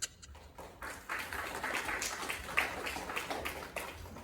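An audience clapping, a fairly faint, steady patter of applause that builds quickly after a brief pause and continues evenly to the end.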